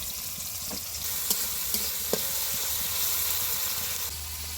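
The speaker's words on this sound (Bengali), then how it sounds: "ফোড়নটা ভালো করে ভেজে গেছে কেটে রাখা পেঁয়াজ টমেটোটা দিয়ে দিব" Continuous loud sizzling of chopped onion and tomato frying in a pan with tempering spices, with a few faint clicks of stirring over the steady hiss.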